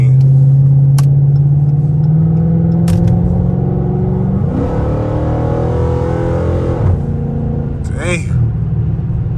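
A straight-piped 345 Hemi Dodge Charger RT roars loud and close from inside the cabin while accelerating on a highway, its rising engine tone breaking at downshifts into fresh climbing pulls, with brief voice underneath.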